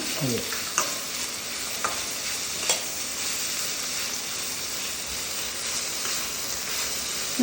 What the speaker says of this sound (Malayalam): ഇത് പച്ചമണമൊക്കെ ഒന്ന് മാറുന്ന വരെ നമ്മളൊന്ന് നല്ല വഴറ്റി കൊടുക്കണേ